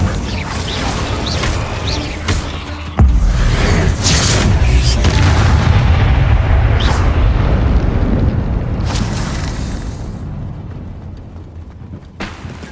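An Incendio fire spell bursts in Hogwarts Legacy with a loud, deep booming explosion that swells and rumbles for several seconds, then slowly fades.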